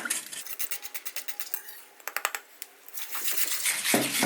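A utensil scraping around a pot while stirring a starch, flour and egg yolk mixture for pudding: a steady run of rhythmic scrapes, then a short pause and more irregular scraping, close and clear.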